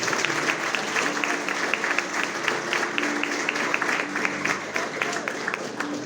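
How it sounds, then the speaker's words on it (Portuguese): Applause from guests at a wedding ceremony in a church setting, a steady wash of clapping with a faint sustained tone underneath lasting throughout. "Você pode aplaudir a Jesus Cristo."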